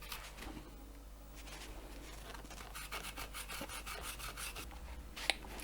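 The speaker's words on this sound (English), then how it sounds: "just rub it back with the fiberglass stick" A fibreglass stick rubs excess Evo-Stik glue back on a model railway coach, giving a soft, steady scraping under quiet room noise, with a brief sharp click near the end.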